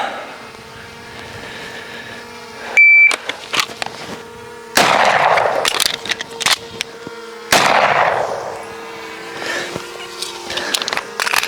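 Pistol shots fired during shooting drills with practice draws and reloads: three loud, sharp reports spaced a few seconds apart, each ringing out over quieter handling noise.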